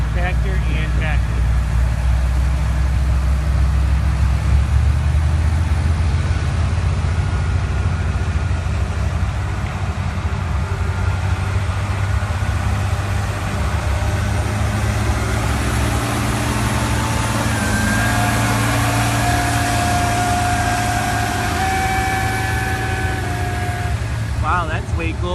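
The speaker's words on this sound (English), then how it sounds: "So here comes the parade, water truck, tractor, and tractor." Water truck and tractors rolling past in a parade at an outdoor drag race event, a steady low engine rumble and idle drone that persists throughout, with people talking over it.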